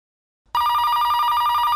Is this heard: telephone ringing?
yes